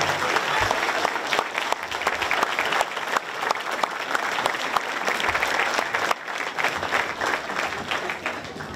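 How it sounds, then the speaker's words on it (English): A crowd at a high school athletic hall of fame induction ceremony applauds in a dense, sustained wash of clapping that continues steadily throughout with a brief dip midway. "Just for a quick round of applause, everybody here working hard."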